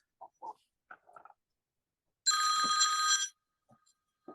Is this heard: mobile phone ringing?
yes